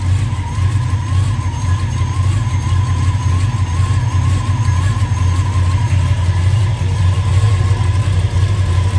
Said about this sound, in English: It's got a nice exhaust note.